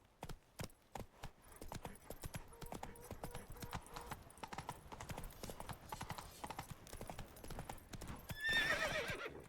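Horse hooves clip-clopping at a steady gallop in the video game The Witcher 3, rhythmic and close, with a horse neighing near the end.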